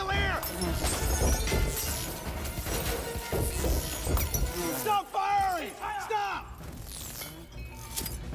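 A chandelier crashing and shattering amid loud action chaos, with bursts of breaking glass and heavy impacts under shouting voices and ringing debris.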